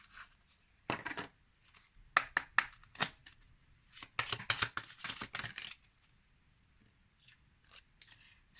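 Oracle cards are shuffled and drawn in crisp, close bursts of papery flicks and snaps, separated by short quiet gaps.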